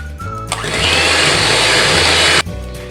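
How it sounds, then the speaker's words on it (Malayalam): An electric beater whirs loudly through avocado cake batter, starting abruptly, holding a steady high-pitched drone for about two seconds, then cutting off. "ഇനി ഇത് നന്നായിട്ടൊന്ന് ബീറ്റ് ചെയ്തെടുക്കാം."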